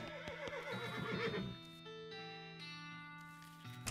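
A horse whinnies in the West of Loathing video game, a loud, shaky neigh with hoof clops early on, then sustained musical tones ringing out alone.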